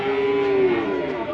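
A cow at a Qurbani cattle market in Madhabpur, Habiganj, gives a single close, drawn-out moo that lasts about a second against low market background noise.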